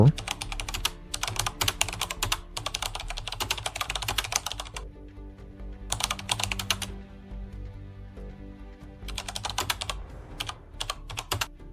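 Fast typing on a computer keyboard while entering a prompt into ChatGPT, dense bursts of crisp close key clicks separated by short pauses, with a faint low hum underneath.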